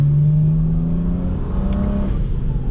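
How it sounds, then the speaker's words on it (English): A tuned MHD Stage 2+ E40 car engine revs close up, a steady loud drone with a strong low tone that holds with little change across the whole stretch, with no voices. "the car sounds amazing"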